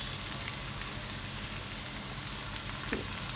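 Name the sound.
garlic frying in a pan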